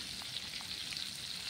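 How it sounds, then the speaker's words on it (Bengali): Big pieces of fish frying in a pan, a quiet continuous sizzle with a few faint pops, heard alone. "দেখো মাছ ভাজা হচ্ছে।"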